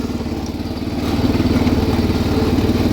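A 1979 John Deere 216 lawn tractor engine runs steadily while driving in third gear, a close, continuous low throbbing engine note that rises slightly in loudness after the first second, with no talking.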